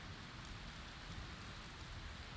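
Steady rain falling in a video game, a constant broadband hiss of close, dense downpour playing on alone without pauses or voices.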